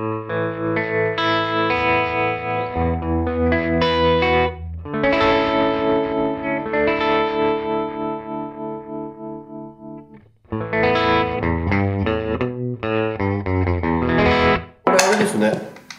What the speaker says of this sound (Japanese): トレモロスイッチを踏んでみます。